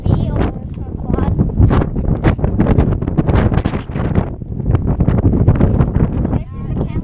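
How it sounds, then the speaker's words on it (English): Strong wind gusts buffet the microphone continuously, a loud, rough roar that surges and dips throughout. "It's so windy right now."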